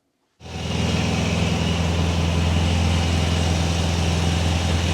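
A 1974½ MGB GT engine starts up and settles into a steady, loud idle with a strong low rumble and hiss, running alone without talk.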